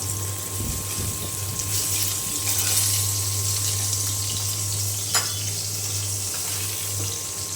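Hilsa fish frying in a pan gives a continuous, even hiss at close range, with a steady hum underneath and a single brief clatter partway through.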